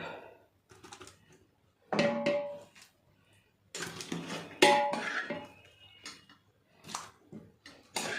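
Rice and prawns being layered into a pot for biryani: scattered clinks and scrapes of a spoon against metal cookware in irregular bursts, close by and fairly quiet, with pauses between.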